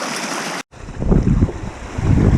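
Water rushing through a rocky channel past bedrock, diverted by a tarp at a worked gold-prospecting hole; a steady loud churning wash with wind buffeting, alone after a brief cut.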